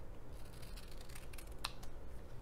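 Child's scissors snipping paper during a Montessori-style cutting practice, a few light crisp snips with a sharper cut near the end, close and fairly quiet over a soft room hum.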